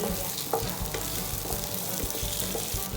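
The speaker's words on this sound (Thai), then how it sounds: "จากนั้นผัดให้เข้ากัน" Steady, loud sizzling and scraping from a hot pan as dried shrimp is stirred and fried for pad thai, continuous throughout with no talking.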